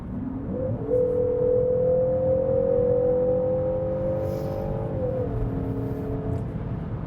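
A DS3 Crossback Performance Line engine revs up steadily in sport mode, its pitch rising and holding high under heavy acceleration, then easing slightly, loud and close with road rumble beneath.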